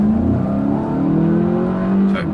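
A VW Golf GTE climbs a hill with a close, steady engine drone that strains and rises slightly in pitch as it works hard, with a brief whoosh at the very end.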